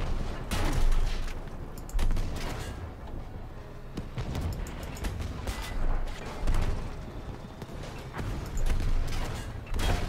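Gunfire and explosions in the video game Battlefield V, with repeated heavy booming shots and mechanical clatter in irregular bursts, fairly loud and dense throughout.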